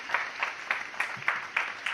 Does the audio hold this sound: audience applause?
yes